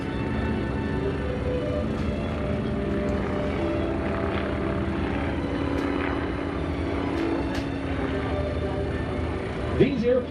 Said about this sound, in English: These airplanes open cockpit biplanes.